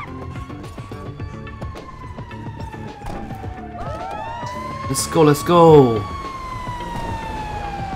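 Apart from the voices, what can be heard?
fire truck siren in GTA5 video game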